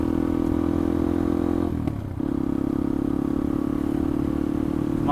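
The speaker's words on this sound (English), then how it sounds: "Don't mind having an aftermarket exhaust, but this is a little louder than I care for." A Yamaha XT250 motorcycle fitted with an open-flow DG aftermarket exhaust holds a steady, throaty engine drone on a dirt road, with a short rattling dip in the middle before the engine note steadies again.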